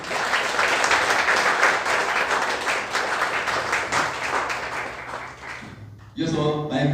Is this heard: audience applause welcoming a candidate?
yes